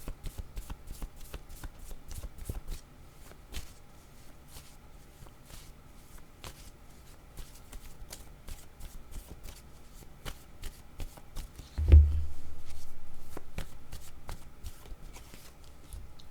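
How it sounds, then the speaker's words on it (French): Tarot cards handled and shuffled on a table, a run of crisp papery flicks and light taps in an irregular rhythm, close and fairly quiet, with one heavier thump near the end. "je vais enlever de ma vue les autres cartes"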